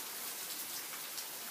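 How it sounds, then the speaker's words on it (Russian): Heavy rain from Hurricane Irma falls in Groveland, Florida, a dense, steady hiss of drops hitting surfaces, even and unbroken throughout, with no voices. "Вот такой дождь у нас сейчас идет."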